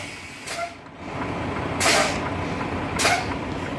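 Air brakes on a tractor-trailer combination give three loud, sharp hisses of escaping air, each about a second apart, over a steady background of flowing air, close by and with no talk.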